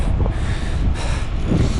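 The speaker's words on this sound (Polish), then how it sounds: "Pogoda jest trochę podła, bo wieje wiatrzysko i to prosto w twarz od 30 km." Strong headwind buffeting the microphone during a cycling climb up the Zoncolan, a loud, continuous low rumble with gusty swells.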